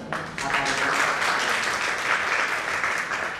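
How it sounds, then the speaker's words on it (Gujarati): An audience at a Gujarati language day celebration breaks into sustained applause, with dense, steady clapping that fills the hall for a few seconds. "આપણે જોરદાર તાળીઓ સાથે"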